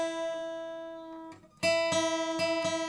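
An acoustic guitar plays out of tune in a beginner lesson: one sustained note rings, then four strummed, clashing chords are struck in a steady rhythm, close and moderately loud.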